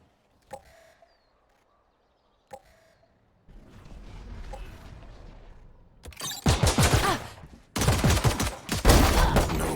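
Gunfire in the Valorant tournament finals: two isolated shots early, then a denser stretch of game action with bursts of rapid fire building to loud, sustained volleys near the end.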